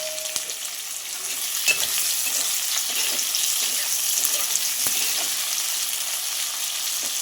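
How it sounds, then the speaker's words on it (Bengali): Onions fry in hot oil with whole garam masala, dried red chilies and a little sugar, giving a loud, constant sizzle broken by a few sharp clicks of stirring. "পেঁয়াজগুলো একটু ভাজা হয়ে গেলে"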